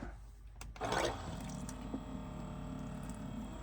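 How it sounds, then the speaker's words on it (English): Tap water runs into a container at a sink in a camper van kitchen, a soft steady trickle with a brief splashy burst near the start, faint and continuous throughout. "I fill this up with a little bit of water from my tap here"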